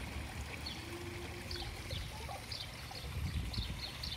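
Water trickles steadily in a garden pond stream fed by a pump, a soft continuous babble with faint bird chirps scattered over it and no talk.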